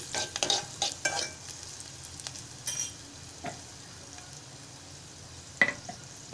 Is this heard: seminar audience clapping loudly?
no